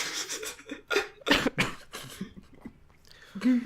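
Several harsh coughs burst out close by, some in quick pairs, followed by rough breathy throat noises and a final cough.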